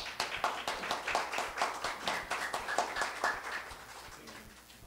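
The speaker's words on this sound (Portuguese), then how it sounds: "Palmas para o Jorge." An audience at the Academia Mineira de Letras claps for Jorge as he takes the podium, a moderate, fairly rhythmic applause from a modest crowd that gradually thins and fades out.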